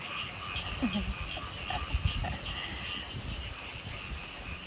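Frogs croak steadily across a rain-flooded rice field. A dense, continuous chorus mixes with low watery rumble, and a few closer croaks stand out now and then.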